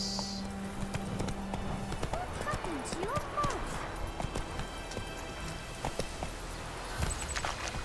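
Horse hooves gallop in The Witcher video game, a quick, even clip-clop running throughout with a faint voice and game ambience underneath.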